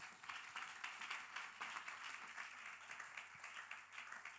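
A church congregation claps together, a faint, rough patter of many hands that goes on steadily at a distance, with a low murmur under it.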